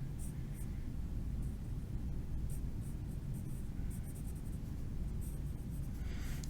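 A pen or pencil draws thick, heavy-handed lines for a chibi anime head, soft scratchy strokes in brief bursts over a steady low background hum.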